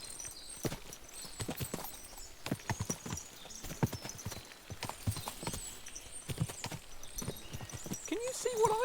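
A group of horses' hooves clip-clop steadily on a road in the medieval game Kingdom Come: Deliverance II, a close, busy rhythm of overlapping hoofbeats with a voice talking over it.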